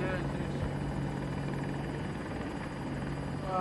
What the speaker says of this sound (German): Heli kommt auch, warte.